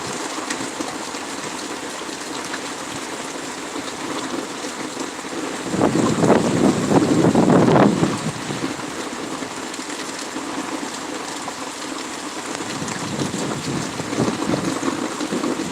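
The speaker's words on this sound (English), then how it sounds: "The wind gusts are just nuts." Stormy outdoor weather with strong wind gusts and rain, a steady broadband rush of wind noise that swells louder for about two seconds midway, then settles back into a constant blustery roar.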